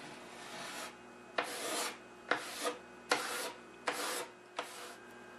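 Grain filler being rubbed by hand into the wood surface of an Admiral 20X136 cabinet during restoration, six broad rasping strokes in a steady back-and-forth rhythm, close and fairly quiet, with no voices.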